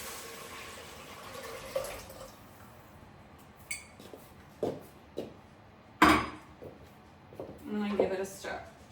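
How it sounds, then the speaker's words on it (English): Six cups of water poured into a pot for kitchari, heard as splashing and clinking kitchen sounds in a series of short bursts, with louder splashes toward the end. "6 cups of water go in."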